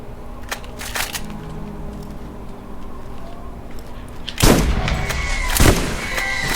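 Two loud, close shotgun blasts ring out in the Borderlands video game, each a sharp crack with a ringing tail, following quieter clicks and handling noises.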